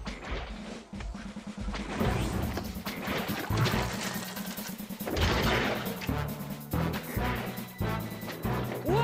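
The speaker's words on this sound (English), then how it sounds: "Target Washington and fire! Fillmore, they're firing on us!" Cannon fire in an animated TV show, a series of booming shots over a busy, loud mix of music and effects lasting the whole stretch.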